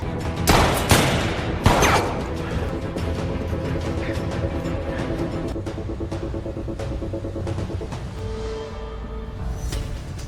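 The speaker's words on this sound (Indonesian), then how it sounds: "Mereka sempat terlibat baku tembak dan pertarungan tangan kosong." Gunfire in a film shootout: two loud, sharp bursts of shots close together near the start, then a long rumbling, throbbing background that fades slightly, with no speech.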